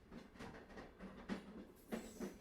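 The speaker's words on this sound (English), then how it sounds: "The train follows the curve of the coast, its tracks hugging the edge of the cliffs." A train running along coastal tracks beside cliffs, heard as a faint, steady rumble with soft rhythmic clacks and a few brief louder knocks, no voices present.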